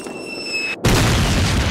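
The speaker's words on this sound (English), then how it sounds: "because the mortars are landing over here" A mortar shell lands in the Call of Duty video game with a single sudden, heavy blast that cuts in after a brief lull, followed by a loud, rumbling roar that fills the remainder.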